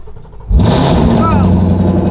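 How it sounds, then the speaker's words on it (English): A Whipple supercharged Mustang GT cold-starts after a short quiet moment, its engine catching abruptly and settling into a loud, steady high-revving roar that continues to the end, with a brief whine over the top. "you ready for the cold start? Gonna be super loud"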